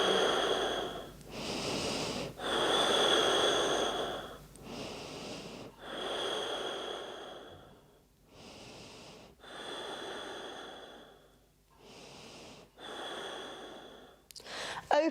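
Slow, deep breathing during a yoga pose, with long audible inhales and exhales repeating about eight times in a steady rhythm, close and breathy.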